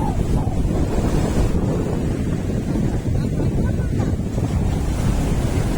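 Waves surge and wash up on a clean, secluded beach at Ezara in Kannur, Kerala, a continuous roaring rush of surf heard close and loud, mixed with gusty wind buffeting the microphone.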